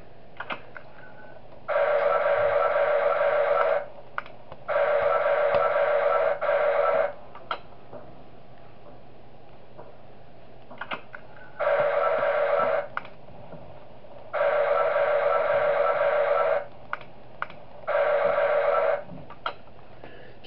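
An audio cue from the video game Those Nights at Wario's 3, in the garage custom night mode: five separate bursts of a steady, buzzing electronic tone, each lasting about one to two seconds, sounding alone against a faint background hum.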